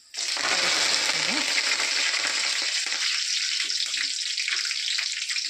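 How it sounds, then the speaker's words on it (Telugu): Curry leaves dropped into hot tempering oil crackle and sizzle loudly and steadily from the start, a continuous frying hiss with faint stirring underneath. "కొద్దిగా కరివేపాకు వేసుకుందాం. బాగా క్రిస్పీగా వేగాలి"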